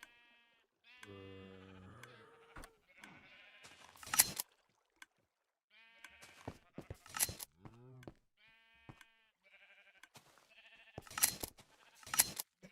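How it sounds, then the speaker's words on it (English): Sheep in Minecraft Bedrock bleat several times in short separated calls, with quiet in-game clicks and tones between them and no talking. "I guess because there's a lot of sheep in there."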